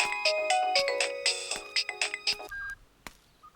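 Melodic ringtone from a phone in a Telugu dubbed action thriller film plays a repeating run of bright electronic tones, loud and alone, before it stops abruptly, followed by a faint click and a short high beep.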